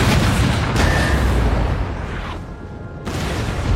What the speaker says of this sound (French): Le canon est prêt, monsieur!